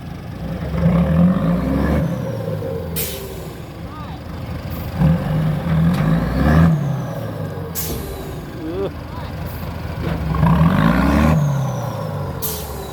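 Isuzu Deca 270 hp six-cylinder direct-injection two-axle truck idling and revving nearby, a steady diesel rumble swelling in repeated surges with sharp air-brake hisses between them and voices talking over it.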